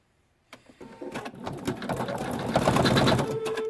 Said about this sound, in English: what I'm doing is I'm stitching the bottom part of the star